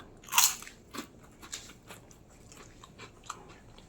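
A crisp fried papad bitten into with one loud sharp crunch, then softer crackly chewing crunches repeating close to the mic during a Bengali home lunch.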